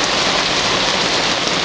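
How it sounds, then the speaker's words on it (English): Heavy rain pours steadily at an anchorage in Gibraltar, a loud, dense and unbroken hiss of drops hitting surfaces close by, with no voices. "Oh my God, it's pouring rain, everybody."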